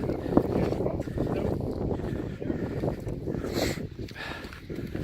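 Gusty wind buffeting the microphone outdoors on a cold, wet walk in Scotland, a rough, uneven low roar with occasional rustles and footstep-like thumps underneath.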